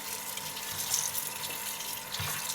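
Running water from a tap pours steadily over beef tripe being washed in warm water, a continuous close splashing flow with no talking.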